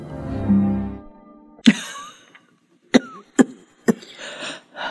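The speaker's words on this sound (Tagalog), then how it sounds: "Lumalala yata ang ubo mo" A few sharp coughs in a row, spaced out and fairly close, after a stretch of low murmuring.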